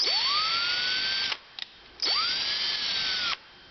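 A tap threading drilled pilot holes around a homemade DIY mandrel, heard as two separate bursts of high motor whine that spin up quickly, hold steady, then stop abruptly, with brief clicks in the pause between them.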